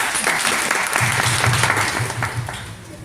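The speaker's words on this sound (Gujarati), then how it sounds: "જોરદાર તાળી થઈ જાય બધા" A whole crowd bursts into loud, sustained applause at a nutrition talk, dense clapping filling the room steadily from start to finish.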